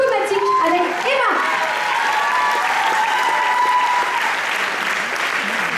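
An audience applauds a hairdressing team at the Miss Côte d'Or 2024 pageant, steady dense clapping throughout with a presenter's voice over the first second.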